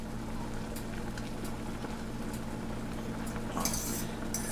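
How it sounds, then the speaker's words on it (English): A utensil scrapes and clinks against a pot of boiling flax seed gel, with irregular stirring taps over a steady low hum from the stove, close and fairly quiet. "You definitely want to stir it occasionally."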